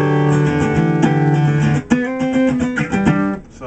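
Acoustic guitar plays a song intro, with ringing picked notes that slide higher up the neck. The melody is close and steady, with a slight shift in pitch midway through.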